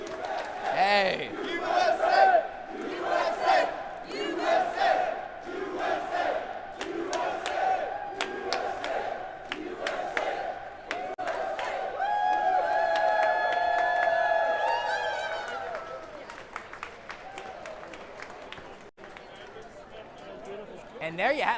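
A packed trading-floor crowd roars, whoops and shouts at the stock exchange closing bell. The noise is loud and close, swelling into a sustained cheer midway before thinning into scattered calls.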